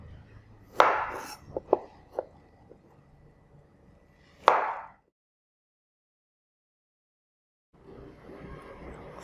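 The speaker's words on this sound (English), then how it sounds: "Small radish just only slice." A knife slices through a small radish on a cutting board while pork ear stir-fry is being prepared in a Cambodian kitchen, giving a few sharp chopping taps close by, then quiet, then a faint background hiss.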